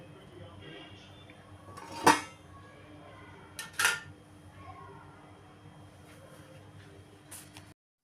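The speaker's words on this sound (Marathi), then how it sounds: "गॅस बंद करूया आणि याच्यावर झाकण ठेवूया." A lid set on a pot of no-onion, no-garlic rajma after the gas is switched off, heard as two sharp metallic clinks a couple of seconds apart over a quiet room hum.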